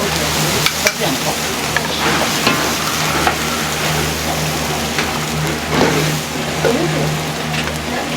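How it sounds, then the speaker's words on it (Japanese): Ginger, then soy sauce, stir-fried over high heat at a cramped ramen stall built on a kei truck, a loud steady sizzle with occasional clanks of a utensil against the pan and a low engine-like hum beneath. "生姜を2だけで香ばしくなるまでまず炒めて、香りを飛ばしたら醤油を打って"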